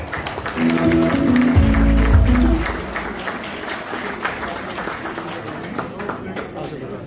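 Loud audience applause at a stage interview event with Pakistani cricket legends, a dense burst of clapping that swells then tapers off as a host's amplified voice speaks over it.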